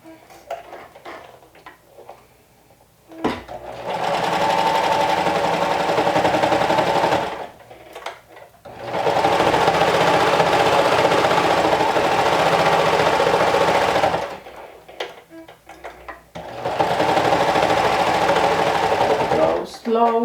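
A sewing machine runs in three steady bursts of slow, rapid stitching along a quarter-inch seam, each several seconds long, with quieter pauses between and faint talk in the gaps.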